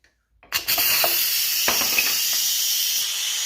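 An Instant Pot's pressure vent opens while making risotto, blasting a loud, continuous hiss of escaping steam that holds steady at full strength after a quiet start, with a few small clicks within the rush.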